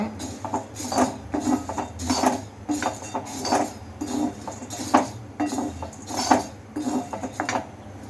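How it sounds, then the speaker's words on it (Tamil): Roasted gram is tipped and scooped into a metal vessel, producing a run of close, irregular clinks and rattles with no talking. "இதை வறுத்து ஒரு பாத்திரத்தில் மாற்றி எடுத்து வச்சுக்கோங்க."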